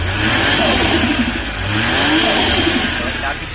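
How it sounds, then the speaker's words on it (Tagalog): A Suzuki DA64W turbo engine revs up and down nearby with a rushing turbo vacuum whoosh layered over the rumble, loud and close. "Lakas ng turbo niya. Vacuum."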